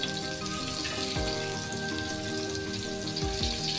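Tiger prawns fry in a pan with a soft, continuous sizzle and crackle, fairly faint, with a couple of brief low thumps as they are moved.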